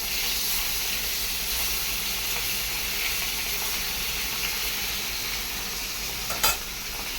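Cooking pot hissing on a small gas stove, a steady broadband hiss and sizzle continuing throughout, with a brief clank near the end and no voices.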